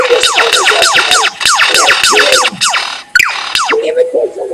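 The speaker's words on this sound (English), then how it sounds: "he imitates a laser gun sound" A pet bird makes a rapid series of sharp, descending laser-gun-like zaps that repeat in quick rhythm, loud and close, with a few looser squawks near the end.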